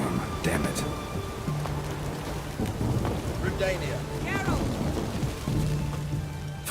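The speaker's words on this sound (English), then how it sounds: "Storm, damn it." Rain pours steadily with low thunder rumbles in a Witcher 3 storm, a continuous wet hiss beneath a voice speaking briefly in the middle.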